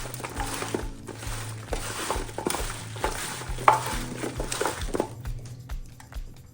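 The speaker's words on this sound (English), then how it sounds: "now we will give that a good mix" Seasoned Brussels sprouts are tossed and mixed by hand in a bowl before air frying, giving a steady close rustle with small clicks and patters, alongside a low background hum.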